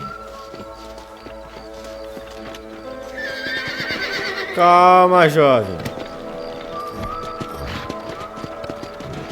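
A horse whinnies loudly and clearly mid-clip in the video game Red Dead Redemption, with soft hoof clops and outdoor ambience around it; someone speaks briefly.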